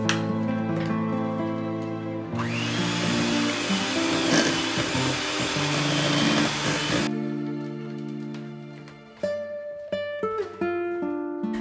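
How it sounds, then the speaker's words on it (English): Electric hand mixer beating butter, icing sugar and an egg for date cookie dough, a steady loud whirring that swells in the middle, then eases off into lighter rattling and knocks as beating stops. "Beat in one egg until well combined."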